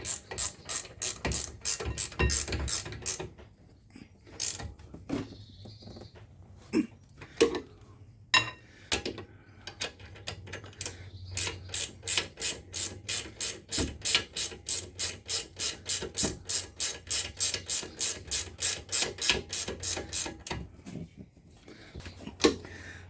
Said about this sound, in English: I can now tighten up with my ratchet ring spanner